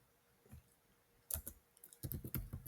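Soft computer keyboard typing while Python code is written, a single tap then a quick flurry of close, crisp key clicks, with no voice.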